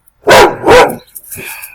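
Two loud, close dog barks ring out back to back indoors, followed by quieter shuffling and a faint voice in the background.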